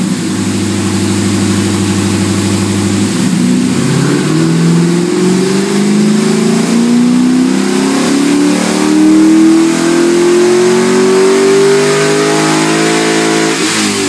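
A 2004 Chevrolet Corvette C5 Z06 on a dyno after tuning, idling briefly and then making a full-throttle pull to 6500 RPM, its loud, close engine note climbing steadily in pitch for about ten seconds before backing off.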